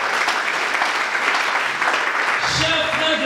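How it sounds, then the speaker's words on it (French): A church congregation breaks into loud, steady applause and acclaim. The clapping stays dense throughout, and a voice rises over it near the end. "Est-ce que ça ne mérite pas les acclamations?"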